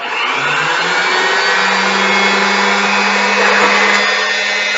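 An Elna sewing machine winds its bobbin with a steady, loud, close mechanical whir and a constant motor hum that holds an even pitch throughout, with no talk.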